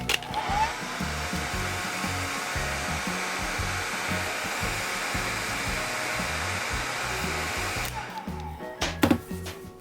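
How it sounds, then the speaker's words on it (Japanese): A hair dryer drying wet watercolor pencil paper gives off a steady, loud blowing whir for about eight seconds, then cuts off, followed by a few soft handling knocks. "濡れているのでここを乾かします。"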